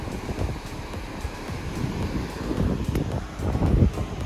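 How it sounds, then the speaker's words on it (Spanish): Sea waves washing onto a white-sand beach in La Unión, El Salvador, heard as a steady low rumbling surf with gusty wind noise over the microphone, swelling slightly toward the end, no one speaking. "Aquí tenemos el mar, ¿ve?"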